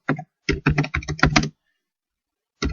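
Rapid bursts of keystrokes on a computer keyboard while typing HTML code, coming in several dense clusters separated by short pauses and ending with one final burst.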